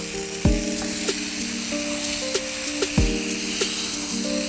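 Oil and butter hiss and sizzle in a pan as Reshmi kebab curry masala is stirred, with a steady frying crackle and a few sharp knocks from the spoon against the pan.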